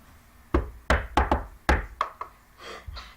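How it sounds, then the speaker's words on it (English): Knocks land on an old wooden cabin door, a quick series of about six hollow, close raps in an irregular rhythm, followed by a couple of softer, brushing sounds. "Someone's knocking on the cabin door."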